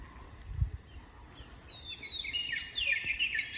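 A small bird sings in a subtropical valley beside a lake, its thin, high warbling trills rising from a quiet outdoor hush and running through the second half, faint but clear.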